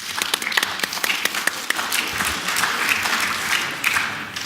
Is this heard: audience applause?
yes